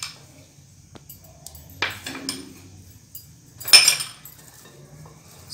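Potato chips are tossed with masala in a bowl, giving sparse light clinks and scraping rustles with a couple of sharper knocks, close and fairly quiet, with no talk.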